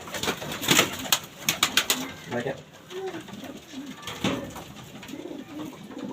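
A racing pigeon coos close by in low repeated throaty bursts, heard alongside soft rustles and some voices in the background.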